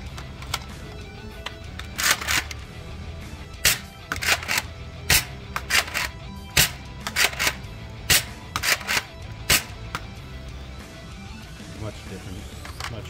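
An XShot Longshot Pro blaster fires full length darts in a string of sharp, separate clacks and thumps at an irregular pace, close and fairly loud over a low room hum.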